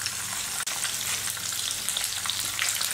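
Chopped green chillies and crushed ginger fry in hot oil in a chatti, giving a loud, dense, continuous sizzle that holds steady throughout, broken by one brief dip.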